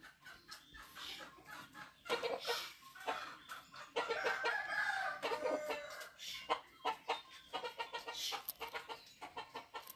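A rooster crows and clucks repeatedly in a string of loud, close calls, with no talk over them.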